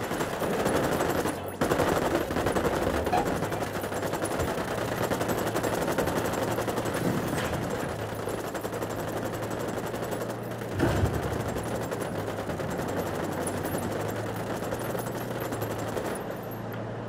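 Gunfire crackles continuously in the video game Ghost Recon Wildlands, a dense rattle of automatic shots held at a fairly even level, with a faint voice now and then.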